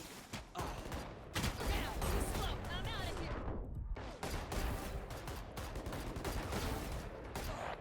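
Rapid, dense gunfire fills Valorant aim practice, with continuous bursts and volleys of shots up close and loud and only a brief lull near the middle.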